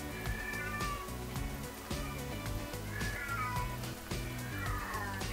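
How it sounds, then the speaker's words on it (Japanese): Repeated cat meows from cats in heat, long and wavering, rise faintly behind continuous background music, about three distinct calls. "ちょっとバックで猫の声が聞こえていると思いますが、"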